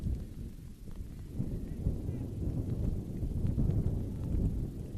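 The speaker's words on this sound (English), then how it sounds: "the wind is listed at 18 miles an hour, but that's just the ambient wind" Gusty wind buffets the microphone on an open soccer field during a men's college championship match, a steady low rumble that swells and eases in soft waves, fairly faint and without speech.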